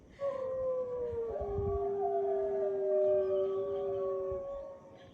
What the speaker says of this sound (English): This is what gray wolves sound like.